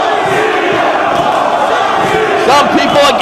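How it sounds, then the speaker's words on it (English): A packed wrestling arena crowd roars and shouts during a CM Punk versus Samoa Joe match, a dense, loud, continuous wall of voices with chanting swells rising near the end. "Punk, you hear the crowd behind him"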